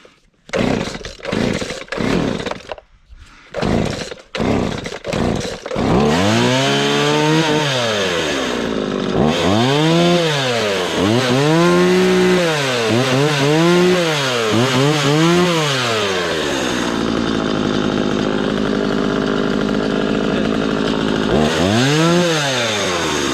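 A McCulloch Mac 3818 chainsaw is pulled a few times to start, then roars loudly, revving up and down repeatedly before dropping to an idle and revving again.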